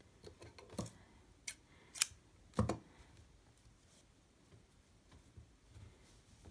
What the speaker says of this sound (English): So you're now just going to cut your yarn